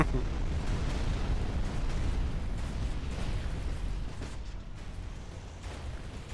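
Nuclear explosion in the video game Rise of the Reds: a deep, rolling rumble that fills the whole stretch, slowly fading in loudness with faint crackling bursts throughout.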